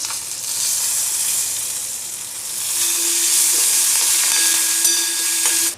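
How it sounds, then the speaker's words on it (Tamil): Mustard seeds, dried red chillies, urad and chana dal and curry leaves fry in hot oil with a loud, steady sizzle and crackle, close up and continuous with no talk. "கடுகு பொரியட்டும்."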